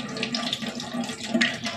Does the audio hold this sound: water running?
yes